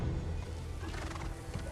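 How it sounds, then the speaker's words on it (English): In a scene from The Rings of Power TV series, a horse whinnies and hooves clop softly amid steady wind-like noise, continuous throughout and at moderate distance. "Almost sounds like hooves."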